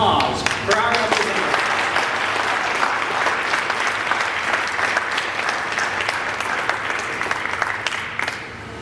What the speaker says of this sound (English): Please join me again in a huge round of applause for our representatives.